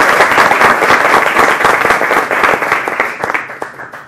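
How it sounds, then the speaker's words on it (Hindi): Loud, close applause from the studio audience of a televised Urdu news talk show greeting a panelist, continuous dense clapping that tapers slightly toward the end. "हम आपका खैर मकदम करते हैं तालियों की गड़गड़ाहट से।"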